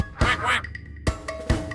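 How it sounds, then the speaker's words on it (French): A duck gives three loud, close quacks, the first drawn out and the next two short and separated by pauses. "Le petit canard, canard,"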